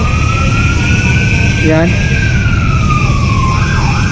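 A continuous siren-like wail rises and falls over a dense engine and street roar, with a brief voice cutting in near the middle.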